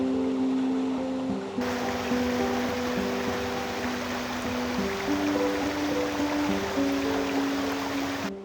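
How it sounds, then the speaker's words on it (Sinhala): Steady rushing wash of a stream pouring into a lake in an Alpine village in Filzmoos, Austria, continuous and fairly close, with faint tonal hum running underneath. "මේ විලට වතුර එන වතුර පාර මම හිතන්නේ."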